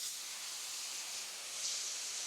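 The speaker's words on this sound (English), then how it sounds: "Hey, that's spraying." An IK Foam Pro 12 foam cannon nozzle sprays with a soft, steady hiss that holds even for a couple of seconds and briefly gets a little stronger.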